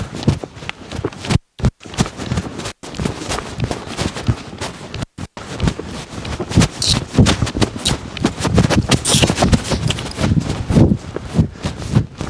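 A mustang mare rescued from a kill pen lopes under a rider, her hooves drumming a steady rolling rhythm close by with scuffs and thuds, a brief pause or two breaking the run.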